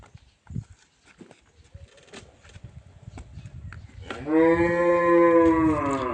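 A cow lets out a loud, drawn-out moo close by, following quieter shuffling and rustling sounds.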